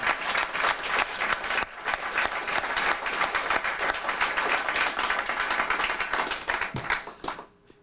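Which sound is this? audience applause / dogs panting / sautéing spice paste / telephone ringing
audience applause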